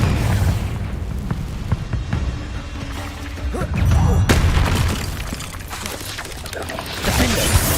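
A Confringo blasting spell goes off in Hogwarts Legacy amid continuous loud, dense battle noise, with booming low rumbles, a sharp crack partway through and a voice calling out over the din.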